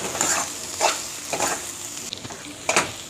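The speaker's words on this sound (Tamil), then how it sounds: "இதை அப்படியே கொஞ்சம் லைட்டாக கலரிக்கோங்க." Ivy gourd fry with masala powder is stirred in a sizzling pan, with a spoon scraping in several evenly spaced strokes over a steady frying hiss.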